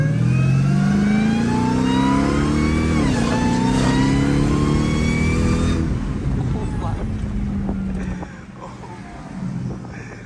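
A stolen hoodless Dodge Demon 170 Charger on bald tires accelerates hard, its engine revving loudly up through the gears with a clear shift, then the roar fades as voices talk over it.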